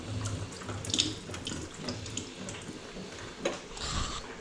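Tap water runs into a sink while canned chickpeas are drained and rinsed, a steady close splashing stream with small clinks, no talk.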